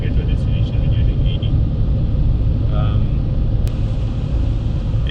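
A car engine idling at just over 1000 RPM while cruising at 80 on the highway, a loud, constant low rumble blended with road noise.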